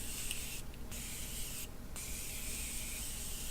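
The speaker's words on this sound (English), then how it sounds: "spray mist to get this look going" A continuous fine setting spray mist hisses close up, broken by two brief pauses, steady and fairly loud throughout.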